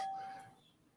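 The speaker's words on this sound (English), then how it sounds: "Oh, he's got a doorbell." A single faint doorbell chime rings out briefly, a clear tone that fades away within about half a second against quiet background hum.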